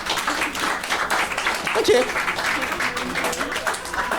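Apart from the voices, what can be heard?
audience applauding in a poll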